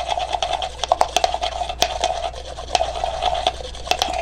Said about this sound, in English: I'm going to mix it very well.